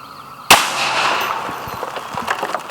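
A single sharp, loud rifle shot from a .458 SOCOM fired outdoors past a chronograph, a sudden crack followed by a decaying echo and faint rustling.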